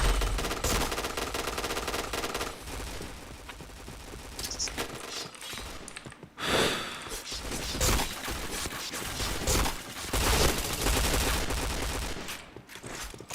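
Sustained machine-gun fire from a video game shooter rattles on in long dense bursts, loud and continuous with a couple of short pauses, with faint voices beneath it.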